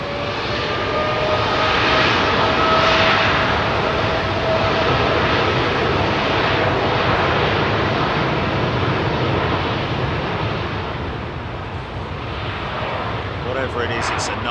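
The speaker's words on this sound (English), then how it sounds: "look how low that Emirates 380 is" Emirates A380 airliner passing low over Heathrow, a loud continuous jet engine roar and rumble sustained throughout, with people talking underneath.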